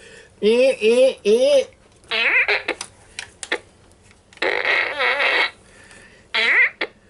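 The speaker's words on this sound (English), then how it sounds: "That, folks, is the dreaded fart gun." Toy fart gun letting off a run of repeated fart noises in short bursts, loud and close, with brief pauses between blasts.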